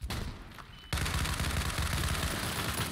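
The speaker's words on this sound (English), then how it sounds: "I'm only shooting through these because there's a lot of people camping behind it" SCAR-H battle rifle fire in the war shooter World War 3: loud, near, sustained automatic bursts in a dense battlefield mix, a quieter stretch of distant fire before it.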